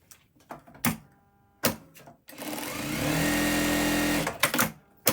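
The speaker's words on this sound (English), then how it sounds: "She's going to sew those long strips down either side." A sewing machine runs steadily for about two seconds as long fabric strips are stitched down either side, with short bursts of handling and clicks before and after the run.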